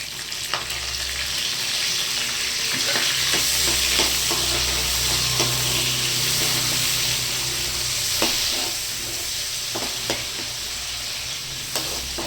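Green chilies, mint and whole spices such as cinnamon, cloves and shahi jeera fry in a pan for paneer curry, giving a loud, steady sizzle with stirring scrapes throughout.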